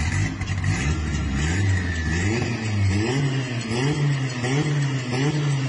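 A car engine turns over and revs, rising and falling in pitch as it picks up speed, loud and steady throughout with no talk.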